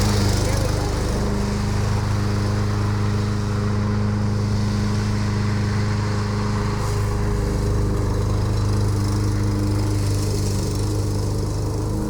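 A TroyBilt TB320 lawn mower engine runs steadily close by on flat ground, a loud continuous drone with a strong low hum that holds even throughout.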